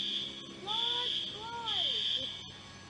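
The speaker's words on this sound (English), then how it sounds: "this is why we're hearing the alarm" Alarm at a building damaged during a 2020 racial justice protest in LA, a steady high buzzing tone broken by brief gaps, with a sweeping siren-like wail beneath, loud and close throughout.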